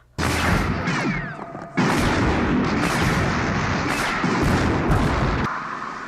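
A large explosion from a grenade or bazooka in the 1980 film The Blues Brothers: heavy booming blasts and crashing rumble that keep going for several seconds, loud and dense throughout.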